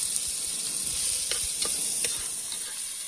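Chopped onions sautéing for chicken kulambu in a pan, a steady close hiss of frying with a few scraping stir strokes spaced through it, no talk.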